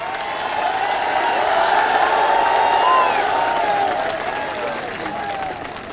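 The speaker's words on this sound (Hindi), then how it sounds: "एक बार जोरदार तालियां हमारे सभी युवा साथियों के लिए।" A large crowd applauds steadily at a Bahujan Samaj Party workers' conference rally in Rewa, a dense, sustained wash of clapping that swells and then gradually tapers off, with no speech over it.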